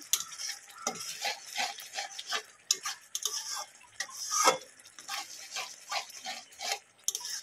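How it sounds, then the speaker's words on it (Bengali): Pangas fish masala sautéed over a low flame: rhythmic spatula scrapes and stirs against the pan with a soft sizzle underneath, repeated strokes about every half second. "তো ধিমে আঁচেই কষাবো"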